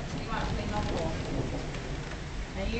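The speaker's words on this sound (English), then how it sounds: "Being stood in a tunnel in a thunderstorm." Steady heavy rain in a thunderstorm, heard from inside a tunnel as a constant dense hiss, with faint voices mixed in.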